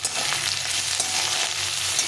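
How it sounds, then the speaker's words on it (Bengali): Strips of capsicum and mixed vegetables, salted, fry in a pan for fried rice, giving a loud, continuous close sizzle with light stirring noises and no voices. "দিয়ে একটু ভেজে নিতে হবে। ক্যাপসিকামটা বেশি ভাজা যাবে না"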